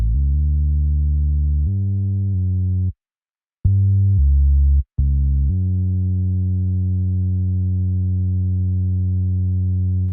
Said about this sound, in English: I decided to play the same bass line that is found within the sample.